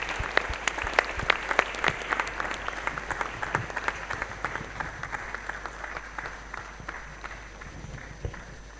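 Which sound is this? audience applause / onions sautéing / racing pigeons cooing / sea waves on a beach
audience applause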